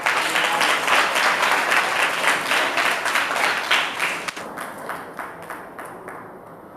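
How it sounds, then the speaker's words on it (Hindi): A crowd at a Grandparents and Parents Day celebration at St. Mary's Church in Rajgir breaks into loud, sustained applause for the chief guest, with dense clapping that slowly thins out toward the end. "जोरदार तालियों के साथ"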